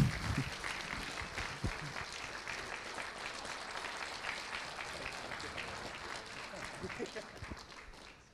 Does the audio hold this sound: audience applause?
yes